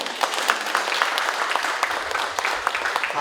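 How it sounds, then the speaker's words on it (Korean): Applause fills a room on the fourth floor of Seoul Station during an award ceremony, a dense, steady patter of many hands clapping at close range for several seconds. "다시 한번 큰 박수 부탁드리겠고요"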